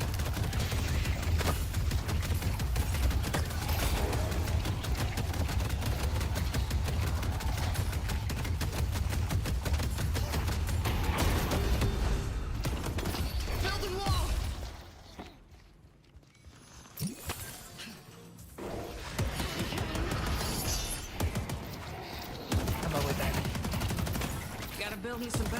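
Turrets in a video game fire in long, dense bursts of rapid gunfire, loud and nearly continuous, dropping away briefly midway before the shooting resumes.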